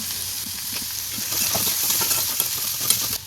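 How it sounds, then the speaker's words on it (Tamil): Chopped onions, cut into large pieces and lightly salted, sautéing in hot oil for a chicken fry, giving a steady close sizzle and hiss that swells slightly midway, with small stirring clicks scattered throughout. "வெங்காயத்தை வதக்கிக்கலாம்"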